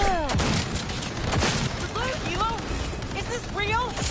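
Gunfire rattles through a Cyberpunk 2077 firefight in quick, punchy shots among game effects, loud and close, with a few ricochet-like whistles and no talk.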